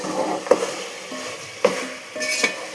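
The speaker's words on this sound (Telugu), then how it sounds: "పీసెస్ ఫ్రై అయినాయి కదా ఇప్పుడు చికెన్ దీంట్లో వేసేస్తున్నాము మంచిగా" Chicken pieces go into a hot pan for biryani with a few clanking knocks of spoon on metal over a low sizzle, three distinct bumps within a few seconds and no voices.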